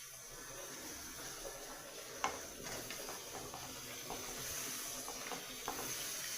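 Potatoes and okra fry with fried tomatoes in katla fish oil and fat, giving a quiet, steady sizzle broken by occasional light clicks of stirring against the pan.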